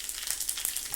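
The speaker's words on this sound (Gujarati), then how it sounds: "જો જીરું નાખ્યું, હવે થોડી હિંગ નાખી દીધી," Cumin seeds and asafoetida crackle and sizzle in hot oil as a tempering for a mango curry. The frying is brief, close and continuous, with no voices.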